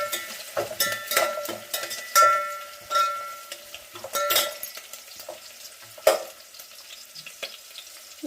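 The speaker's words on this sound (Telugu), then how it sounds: "ఇప్పుడైతే ఇది వేగనిద్దాం." Chicken biryani masala fries in hot oil, a steady sizzle broken by sharp scraping and stirring clatters of a utensil against the pan, with no voices.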